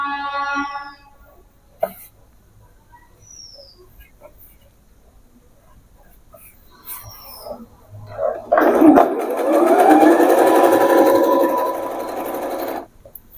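Sewing machine stitching pants fabric in a single sustained run of several seconds in the latter half, loud and close, preceded by quiet handling and a few faint squeaks.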